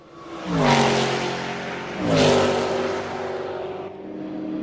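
Porsche race cars flash past at high speed, around 300 km/h, during the 24 Hours of Le Mans 2004. Two loud engine drones sweep in and fall in pitch one after another, leaving a steady roar behind them, with no talk.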